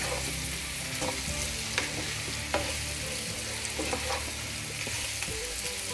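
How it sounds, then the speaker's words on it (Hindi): Potato and onion dry sabzi frying steadily in a pan, with a continuous sizzle and intermittent scraping clinks of a spoon stirring through it, close and even throughout. "और इसे भी अच्छे से मिक्स कर देंगे सब्जी के साथ हम।"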